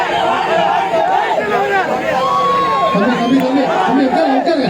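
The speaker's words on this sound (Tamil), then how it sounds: "கொஞ்சம் உட்கார்ந்து சத்தம் போடக்கூடாது விசில் அடிக்க கூடாது" Noisy crowd at a political rally in Chidambaram, a dense continuous roar of cheering, shouting and whistling with babble, one sustained whistle tone cutting through midway, loud and steady throughout.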